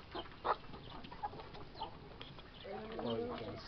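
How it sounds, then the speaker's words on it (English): Chickens cluck softly and keep up a low, scattered murmur while drinking at a waterer in a poultry house, with a person talking nearby over the birds. "You can see the chicken are now taking water."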